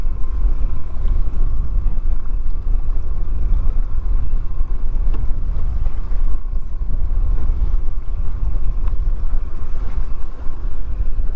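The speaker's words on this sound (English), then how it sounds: "The wind definitely kicked up a little bit, all of a sudden it seems like." Steady wind roars over open water on Lake Erie aboard a boat, a continuous low rumble of buffeting gusts with faint water wash beneath, loud and unbroken throughout with no talking.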